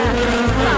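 Giant mosquitoes buzzing in a Motu Patlu cartoon, a loud, dense, steady insect drone filling the moment without pause, with no voices over it.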